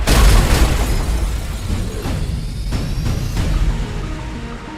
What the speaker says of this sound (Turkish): Bombalar atılıyor.